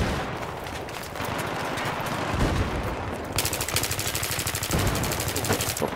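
Rapid automatic gunfire in a video game, loud and continuous bursts filling the scene, with a denser, faster-rattling volley starting midway and running to the end.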